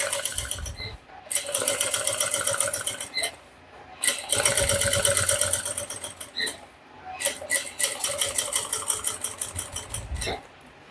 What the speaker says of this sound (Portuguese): para poder ter certeza que eu tô costurando o forro